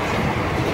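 A crowded passenger train rolls along the rails with a dense, continuous rumble and rattle, close and fairly loud, with no voices heard.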